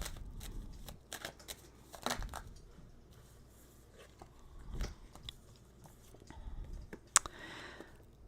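Tarot cards are shuffled close by in quiet surroundings, irregular bursts of soft riffling and slapping with near-silent pauses between, one sharp click near the end.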